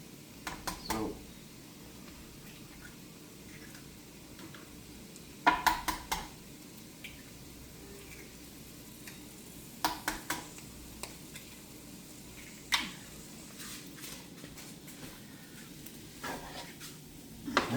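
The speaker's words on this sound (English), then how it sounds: "I'm going to give this a little bit of a stir so it combines a little better." Breakfast fried rice with eggs is stirred in a pan, with irregular spatula scrapes and clinks rising over a steady, low sizzle and quiet gaps in between.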